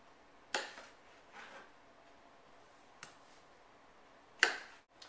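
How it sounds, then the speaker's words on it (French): A knife slices through tomatoes on a cutting board in a few sharp, separate chops spaced a second or more apart, close and fairly quiet against a near-silent background. "Maintenant, coupe vos tomates."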